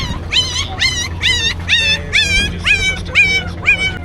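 Puppies yelp and whimper at a horse fair in Jagraon, a rapid series of high, wavering cries, close and loud, about a dozen calls in quick succession.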